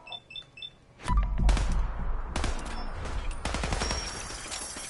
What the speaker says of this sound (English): I fast traveled into a bunch of gunshots.